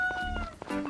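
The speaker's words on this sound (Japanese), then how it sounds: "めっちゃ猫の鳴き声入ってるかもしれない。" A cat meows in a short, faint, wavering cry set under low background noise, with no speech over it.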